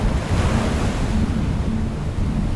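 Strong wind and surging ocean waves heard aboard a sailing boat in rough Alaskan waters, a loud, continuous roar of rushing water and buffeting wind noise with no pauses.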